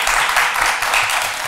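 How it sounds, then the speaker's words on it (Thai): A group clapping hands to encourage a friend, a short burst of dense, close applause with even rapid claps and a faint voice underneath. "พวกเราค่ะปรบมือเป็นกำลังใจให้เพื่อนเรา"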